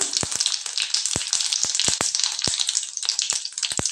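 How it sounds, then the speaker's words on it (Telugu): Mustard seeds, cumin, urad dal and fenugreek frying in hot oil in a pan, a steady crackling sizzle broken by sharp, irregular pops and spits from the seeds. "మినపప్పు మెంతులు ఇవన్నీ వేసి ఒకసారి లో ఫ్లేమ్లో ఫ్రై చేసుకోండి"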